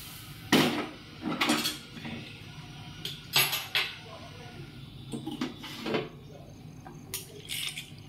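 Pressure cooker lid clattering shut over chana dal on a home stove, several metallic clanks and scrapes in irregular bursts, close by, with a voice talking between them.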